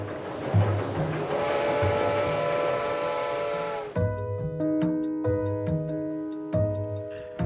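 Train sound effect in an audio drama, a steam train whistle blowing over rumbling carriages, then rhythmic clanks and chugging as it moves off, fairly loud with no talking.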